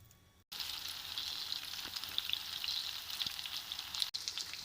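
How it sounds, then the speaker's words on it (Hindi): Chicken seekh kebabs pan frying in oil make a soft, continuous sizzle with fine crackles. The sound is fairly quiet and steady, with no talking over it. "अब मैं इनको पैन फ्राई करूंगी आपके सामने"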